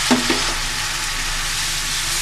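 Spices frying in oil in a pan for a bean and dry fish dish, a steady close sizzle with a couple of brief stirring knocks at the start, no talking.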